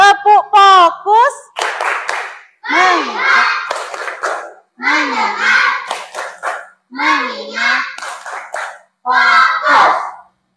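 Indonesian schoolchildren in a classroom chant a rhythmic call-and-response while clapping in unison before a lesson, their young voices loud and close in short repeated bursts separated by brief pauses.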